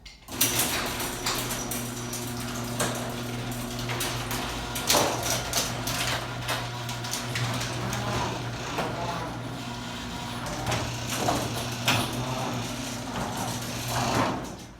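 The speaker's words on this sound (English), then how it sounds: "This opener is not as loud as I expected it to be." A Chamberlain C2102 garage door opener raises a door fitted with new springs, giving a steady, moderately quiet mechanical hum with a constant motor tone and scattered clanks and rattles throughout.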